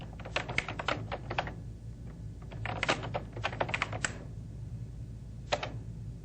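Rapid bursts of clacking keystrokes on a computer keyboard, close and crisp, with short pauses between flurries of typing.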